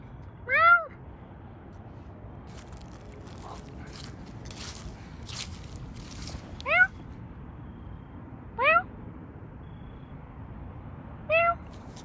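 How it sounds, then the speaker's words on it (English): A nearby cat meows four times, short rising calls spread several seconds apart, standing clearly above a low background hum with no talking. "Wait, is that a kitty?"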